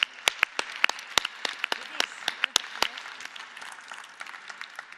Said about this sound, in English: Now I'm going to ask the audience to give Miss Nadia Calvino a big round of applause.